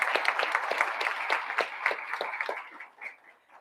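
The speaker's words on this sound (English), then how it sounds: "let's give her a round of applause" Audience at a school board public session applauding for about three and a half seconds, steady dense clapping that tapers off toward the end, with no talk over it.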